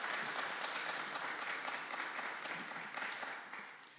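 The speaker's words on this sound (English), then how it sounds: "Can we give Dr. Charmika Lipscomb a round of applause?" Steady, dense audience applause for a speaker at a Black faith communities and HIV event, sustained at even loudness throughout with no talk over it.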